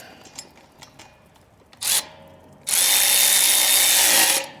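Power tool, likely a drill or impact driver, tightening bolts on heavy-duty pallet forks, with a short first burst followed by a longer steady whirring run close to the mic after quiet handling noises.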